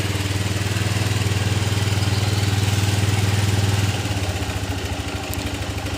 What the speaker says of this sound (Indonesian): Nah, kita hidupkan lagi. Nah, hidup ya teman-teman. Sekali engkol.